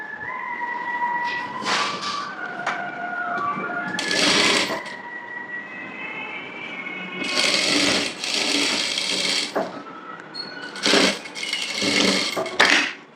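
A sewing machine stitches a blouse in short, loud bursts of rapid clatter, separated by pauses and small handling clicks as the fabric is repositioned.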